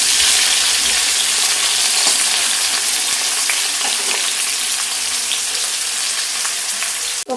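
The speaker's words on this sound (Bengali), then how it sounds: "লম্বা লম্বা করে কেটে রাখা করলাগুলো ভেজে নেব" Long strips of bitter gourd frying in oil, a loud, close, continuous crackling sizzle with faint stirring ticks and no talking.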